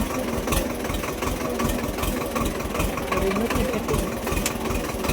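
A tractor strains to drive out of mud beside tall sugarcane, its engine chugging steadily with a knocking rhythm, close and moderately loud throughout.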